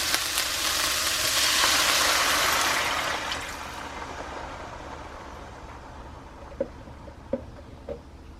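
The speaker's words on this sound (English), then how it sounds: "once your chicken is fully cooked, you're going to go ahead and pour in your chicken broth." Chicken broth poured into a one-pot dish of fully cooked chicken, raising a loud sizzling hiss that swells and then fades over several seconds, followed by a few faint clinks.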